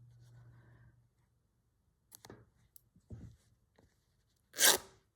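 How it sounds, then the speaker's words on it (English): Fabric with a spotty print being torn by hand for a collage, heard as a few short ripping and crunching bursts separated by pauses, ending in one louder, longer tear, with no talking. "ripping up some of this spotty stuff."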